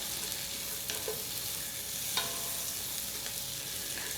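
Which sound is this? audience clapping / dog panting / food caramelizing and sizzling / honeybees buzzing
food caramelizing and sizzling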